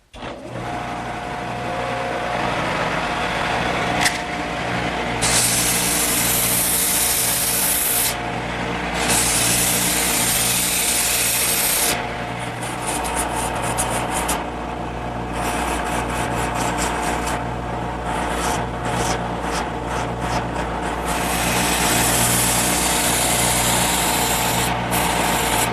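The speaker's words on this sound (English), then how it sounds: "I'm also going to speed the lathe up a little bit." A wood lathe spins at higher speed while a blank is sanded with coarse 80 grit then 180 grit paper, a loud steady whirr with bursts of harsh hissing abrasion coming and going over the motor drone.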